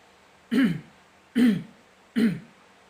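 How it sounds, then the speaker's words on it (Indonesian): Three short, evenly spaced throat clearings from a single nearby person, separated by brief pauses of quiet. "saudara disunahkan untuk berdehem 3 kali, seperti ini"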